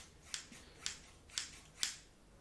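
Scissors snip four times close to the ear, each a crisp metallic cut spaced about half a second apart, soft and intimate against quiet room tone.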